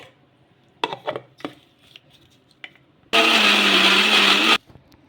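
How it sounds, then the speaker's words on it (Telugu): A mixer grinder blends soaked sago into batter, whirring loudly and steadily for about a second and a half after some scattered kitchen clatter and knocks. "అందులోకి ఎంత అయితే పడుతుందో అంత వేసేసుకొని మిక్సీ అయితే పట్టేసుకోవాలి"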